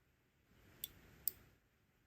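A relay in a model railroad touch switch circuit clicks twice, two sharp, faint ticks about half a second apart over a quiet background hum.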